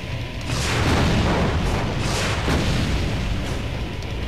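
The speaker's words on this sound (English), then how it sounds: "these fucking dickheads are gonna shoot their rockets" Revenant demons firing homing rockets in the 2016 video game Doom: a dense, loud wall of booming blasts and rumbling explosions rolls on continuously, with repeated surges of bursting noise and no talk.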